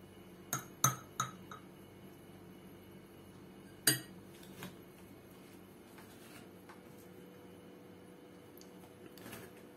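A glass jar packed with ivan-chai is closed for fermentation: a quick cluster of three clinks, then a single sharper knock and a few softer rattles, all fairly faint and without talk.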